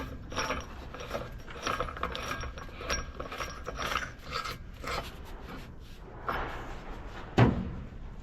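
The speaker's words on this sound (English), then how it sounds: "Get that washer and big lock nut put back on there." Metal mechanical work on the rotor of a Gleaner R52 combine, refitting a washer and large lock nut: repeated close rasping, ratcheting and scraping strokes, ending in a sharp metallic clank.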